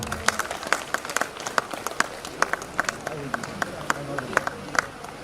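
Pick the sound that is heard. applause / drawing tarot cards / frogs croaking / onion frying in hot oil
applause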